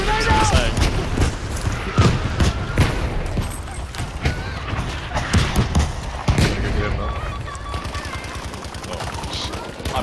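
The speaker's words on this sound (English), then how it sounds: "Oh god, this is a mortar strike." Mortar strike explosions and gunfire in the video game Battlefield V, a dense run of loud booms and rapid shots over ten seconds, with a player talking over the battle.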